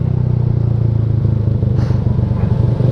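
A Yamaha Mio automatic scooter engine idles and runs nearby, a loud steady throbbing putter with a brief higher rattle partway through, no talk.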